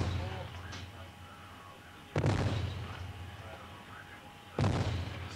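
Two heavy reports from the 4.5-inch naval gun aboard the warship HMS Antelope, a couple of seconds apart, each a sharp loud crack trailing into a rumbling decay over a steady engine hum on board.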